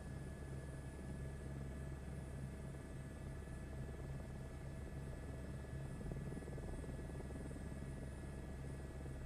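Helicopter rotor and engine drone from Microsoft Flight Simulator 2024, a steady, loud, unbroken hum with tonal whine as the aircraft flies and settles to land, no voices.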